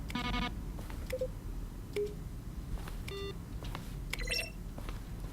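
Buttons pressed in The Stanley Parable give short electronic beeps and tones, several scattered presses over a low background hum, faint and without talking.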